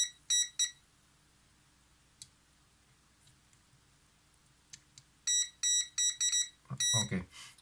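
Sharp electronic beeps from a continuity tester checking the flash contacts on a Zorki 6 camera during reassembly, short bursts early then a rapid run of repeated beeps near the end, with a brief low clunk.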